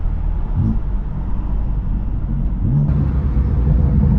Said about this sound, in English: Those downshifts sound so fucking. They're menacing.